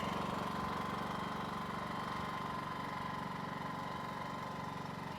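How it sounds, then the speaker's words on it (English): Erayak 8000iE portable inverter generator idling steadily with no load, a constant mid-pitched engine hum with slight knocking vibration, close and unbroken with no talking. "we'll let it run for a couple minutes so the engine can cool down, and then we'll shut it down"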